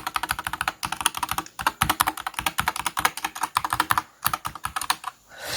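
Fast, crisp clicking of typing on an Apex Pro gaming keyboard, with close, loud keystrokes in rapid bursts and short pauses, and no other sound.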